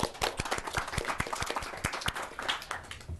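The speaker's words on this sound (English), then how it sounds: "I just want to quickly give you guys a round of applause for that." A small group at a youth commission meeting gives student speakers a brief round of applause, with sparse, distinct individual claps fairly close and no voices over them.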